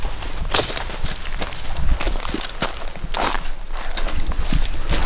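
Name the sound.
deer running through brush near a farm pond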